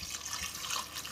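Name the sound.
water being poured into a mixer grinder jar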